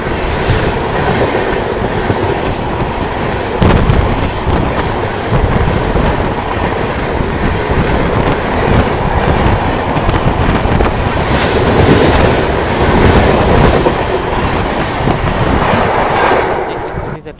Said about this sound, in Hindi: अब आ रही एक ट्रेन क्रॉसिंग करने।